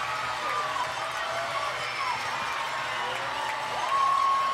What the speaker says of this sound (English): this education crowd, packed with kids, loves it